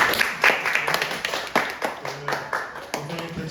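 Scattered clapping from a church congregation after a sermon, sharp hand claps coming in uneven bursts rather than steady applause, with a voice speaking over it.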